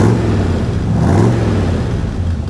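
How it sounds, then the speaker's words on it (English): A cold Chevrolet Corvette engine rumbles through side pipes, loud and close, with gentle, low revs rising and falling over a steady, throaty idle. "this one is a dead cold car, so I'm not going to rev it up too high or anything"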